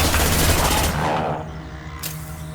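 Rapid close gunfire in a zero-gravity mission of Mass Effect 2, a dense burst of shots that cuts off partway, leaving a low hum and a brief sharp crack afterward.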